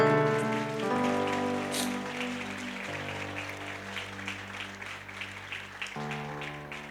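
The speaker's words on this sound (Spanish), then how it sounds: "Que el aplauso sea para el Señor" A church congregation claps in a soft, rustling wash of applause beneath sustained keyboard or organ chords that change every couple of seconds, the clapping staying faint and even throughout.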